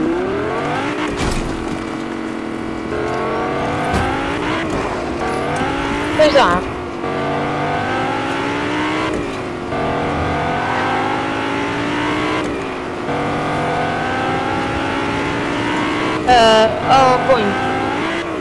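A car engine drives in the video game Fortnite, a steady droning hum with rising and falling revs and a few brief squeals, running continuously under two people chatting.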